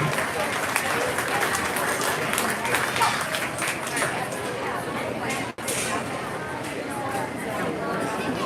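An audience applauds at a junior fair swine show, with steady sustained clapping from a crowd filling the space, a brief break near the end before the clapping resumes.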